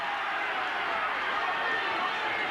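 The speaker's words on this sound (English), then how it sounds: "Listen to the crowd." Spectators at a 1990s rugby league match between Featherstone and Bradford roar in a steady, loud wash of crowd noise, with no break and no clear voices standing out.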